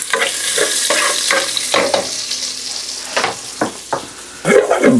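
Garlic, onion, tomato and pork belly sauté in rendered pork fat, with a sizzling hiss broken by repeated spatula stirs and scrapes, close and fairly loud, no talk.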